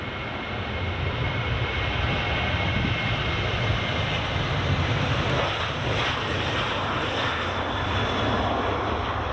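Transatlantic airliner departing Edinburgh Airport, a loud continuous jet engine roar holding steady throughout with a broad rushing texture.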